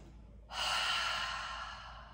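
A deep inhale during a yoga core flow, an audible breath that begins abruptly after a pause and holds as a steady airy rush, close and fairly loud with no talk over it.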